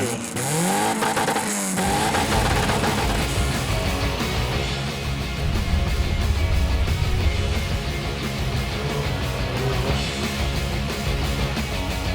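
Race car engines roar loudly and continuously, revving and whining as the cars sweep past on a circuit set among fields.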